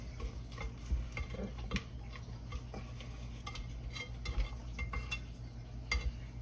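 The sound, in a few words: scraping down cake batter in a mixing bowl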